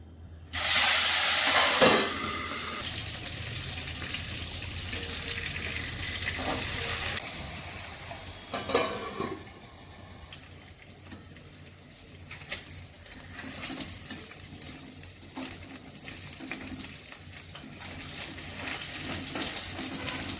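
Fish frying in hot oil for a Bengali masala fish dish, a steady close sizzle and crackle that starts with a loud burst, then settles into a continuous hiss with occasional stirring clatter and no talk.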